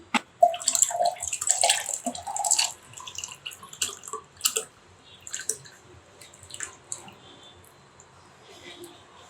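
Banana sherbet drink is poured into a glass, giving intermittent liquid splashes and drips with a few brighter clinks, close and moderately loud, with some talk mixed in.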